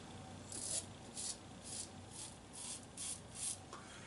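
A traditional safety razor with an aggressive head making a first pass, giving repeated short rasping strokes in a steady rhythm, close and fairly quiet, with no talking.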